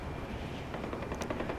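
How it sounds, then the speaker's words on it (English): Gunfire crackles in the Far Cry 4 video game, a brief burst of dense rapid shots over a noisy backdrop, lasting under two seconds. "Whoa, gunshots."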